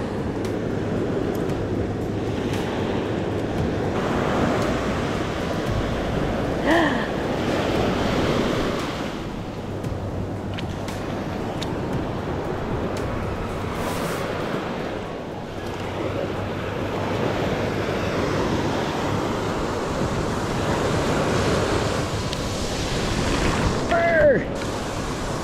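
Ocean waves wash onto a post-hurricane beach at Stumps Pass, a steady broad surf roar with wind buffeting the microphone throughout, and faint voices briefly under it.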